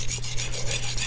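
A blade is sharpened on an Arkansas natural whetstone, wet with a slurry building up. Close, steady rasping rubs repeat in an even back-and-forth rhythm.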